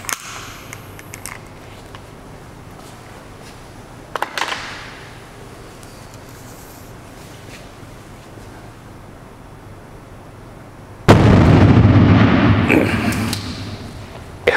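A hydrogen-oxygen balloon, filled at roughly three parts hydrogen to one oxygen, detonates in a sudden loud blast late in the clip after quieter background noise and a few faint knocks.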